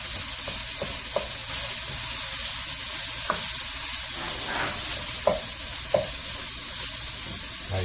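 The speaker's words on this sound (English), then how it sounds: "Let's put more garlic in there. Now we're going to mix that up. We're going to get a nice saute on there." Garlic sautéing in a hot pan, a continuous bright sizzle with occasional scrapes and taps as it is stirred, close and steady.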